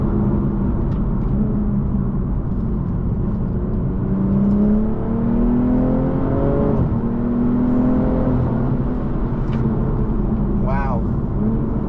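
A BMW M240i (G42) engine hums and rises in pitch as it accelerates, with a steady rumble of driving underneath; brief faint sounds poke through near the end.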